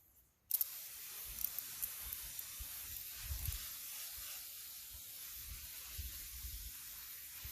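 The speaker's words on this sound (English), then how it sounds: "I'm going to spray." Half-broken garden sprayer wand misting an avocado tree outdoors, a steady close hiss that starts abruptly after a brief silence and runs continuously, with faint low rumbles beneath.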